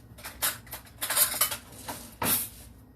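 A metal spoon clatters against dishes in a kitchen, with several sharp, close clinks and knocks in uneven bursts.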